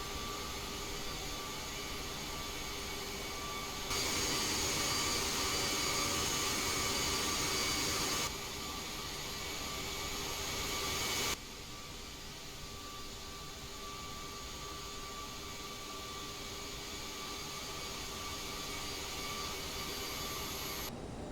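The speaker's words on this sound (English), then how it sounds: "Just going to start my taxi over to runway 12" Cockpit sound of an Aerosoft CRJ 550 regional jet taxiing to the runway at Dulles International Airport in Microsoft Flight Simulator 2020: a steady, broadband engine whine and hiss that shifts level slightly a few times, with no talking.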